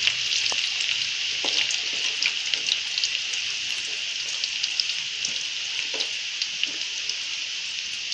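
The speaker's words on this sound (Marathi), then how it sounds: "लसूण अगदी लाल होईपर्यंत आपण परतून घेऊया." Garlic frying in hot oil for chivda, a steady bright sizzle with small crackles and pops throughout, close and fairly loud, no talking.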